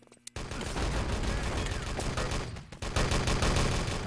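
Dense, sustained gunfire and a grenade blast fill the clip from a competitive Enemy Territory match, a loud near-continuous rattle of rapid shots that briefly dips before resuming.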